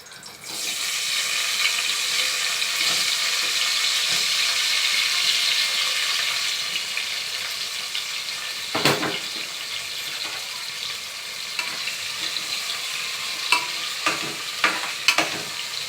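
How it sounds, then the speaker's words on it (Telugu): Onions frying in hot oil in a pan for Maharashtrian-style lapsi rava upma, a loud dense sizzle that swells at first then eases, later broken by a few stirring knocks and scrapes, with no talking. "ఇందులో నేను ఉల్లిపాయలు వేసుకుంటున్నాను"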